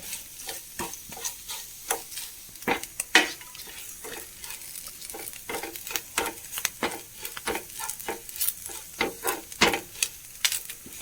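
Grated coconut and coriander seeds roasting in a pan for onion sambar, a soft continuous sizzle broken by repeated scraping stirs of the spatula at an irregular rhythm, close and moderately quiet.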